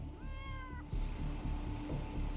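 A cat meows in the video game Wasteland 3 with a short, clear, tonal call near the start, followed by steady in-game ambient background.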